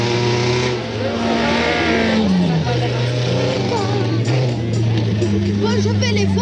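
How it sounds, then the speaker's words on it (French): An old car passes during a race, its engine note sweeping and shifting pitch as it goes by, with other engine tones and an announcer's commentary in French running over it. "C'est une vieille bagnole."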